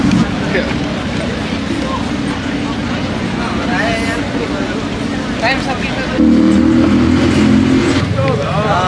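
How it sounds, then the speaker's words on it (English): Busy street traffic at a crowded pedestrian crossing in Kuala Lumpur, Malaysia: a steady, loud wash of car and bus engines with a heavier vehicle surging close by near the end, while people talk throughout. "Everybody trying to cross at the same time, a bunch of traffic."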